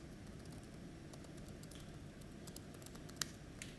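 Computer keyboard typing during a live OpenStack Swift cluster demo at a conference talk: soft, irregular key clicks under a steady room hum, with one sharper keystroke near the end.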